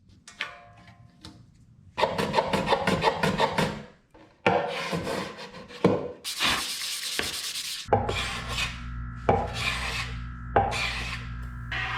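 A hand rasp files across a wooden crossrail tenon of a handcrafted bench, cleaning off saw teeth marks in steady, close, rough rubbing strokes in bursts with brief pauses, with no talking.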